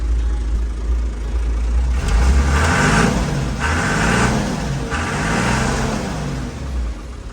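A John Deere 3140 tractor engine idles and then revs up in repeated bursts, its deep rumble swelling three or four times before settling back, close and loud.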